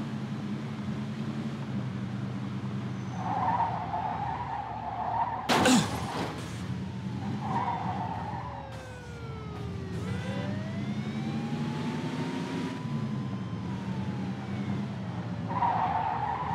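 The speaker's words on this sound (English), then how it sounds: "In pursuit of a speeding vehicle." Tires screech loudly as a speeding car skids during a police pursuit in the video game Mafia 2 Definitive Edition, with a sharp impact-like burst midway and a steady engine drone throughout, no talk.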